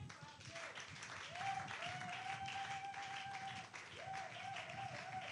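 A church congregation applauds steadily, a broad wash of clapping under a sustained tonal music line and voices.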